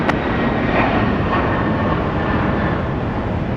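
A jet airliner roars on an airport runway during takeoff, a loud, steady, broadband engine rumble that holds evenly throughout, close and without pause or speech.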